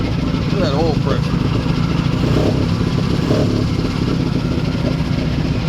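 Old Towmotor forklift engine running steadily close by, a loud, rough, continuous idle with a clattering mechanical texture and brief voice-like tones early on.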